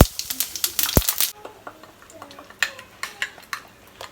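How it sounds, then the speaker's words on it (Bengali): Cumin seeds are added to hot oil in a pan for a chital fish curry, with a burst of sizzling and a clatter at first, then scattered spoon scrapes and taps against the pan. "জিরে দিয়ে দিলাম এক চামচ জিরে"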